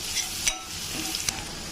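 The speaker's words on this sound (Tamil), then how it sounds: "பூண்டு கொஞ்சம் நல்லா வதங்கிட்டுங்க." Garlic sautéing in oil in a pan for tomato thokku, a soft continuous sizzle with a couple of brief stirring scrapes, close and fairly quiet.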